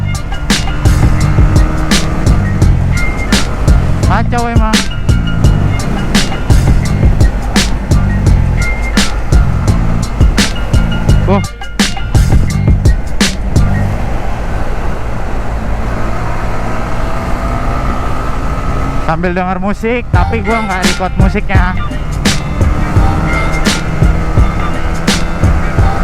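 Loud, sustained drone of a vehicle engine with a remapped ECU after an engine overhaul, rising and falling in pitch through gear changes while someone talks briefly over it.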